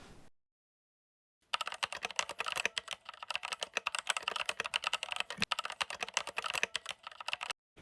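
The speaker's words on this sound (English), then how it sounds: "this is a mechanical keyboard" Fast, steady typing on a mechanical keyboard after a brief silence, with dense clacking keystrokes close up and no voices.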